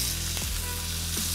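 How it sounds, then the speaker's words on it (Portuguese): Filet mignon sears in a little olive oil in an iron pan, a steady close sizzle with a brief scrape or shift of the meat partway through, heard alone. "E vamos levar para uma panela de ferro para grelhar."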